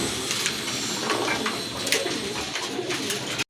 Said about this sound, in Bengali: এখানে কিন্তু অনেক বড় সাইজের এক জোড়া গিরিবাজ কবুতর আছে